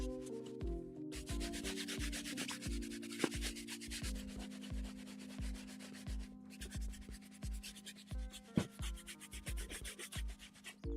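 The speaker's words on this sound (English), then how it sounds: "This is like the hard bristle brush." A hard bristle brush scrubs synthetic leather sneakers in steady, rhythmic back-and-forth strokes, a close, gritty rasping that pauses briefly now and then, with no talking.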